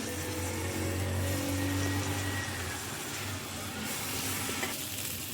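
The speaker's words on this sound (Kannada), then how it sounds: "ಇದಕ್ಕೆ ಇವಾಗ ಕಟ್ ಮಾಡಿದ ಹೆಗ್ ಹಾಕ್ಕೊಳ್ತಿದ್ದೀನಿ" Chopped boiled egg frying in a chili masala for egg ghee roast, a steady close sizzle with occasional stirring scrapes of a ladle in the pan, no voices.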